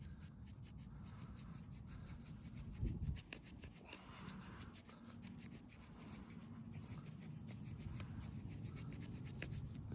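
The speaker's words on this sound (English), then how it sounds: "I need to sharpen the serrations any." A GRITR Expedition tactical survival knife has its serrated edge sharpened, giving a steady, continuous rasping and rubbing for the full length, close and fairly quiet, with one brief heavier scrape near the start.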